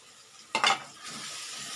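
Dry ground masala stirred into tomatoes frying in a pan, a sudden scraping stir followed by a soft, steady sizzle.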